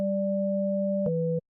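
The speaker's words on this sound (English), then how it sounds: "sine wave." A pure sine tone from the Serum synthesizer's oscillator holds steady, then steps down slightly in pitch before cutting off, alone with no other sound.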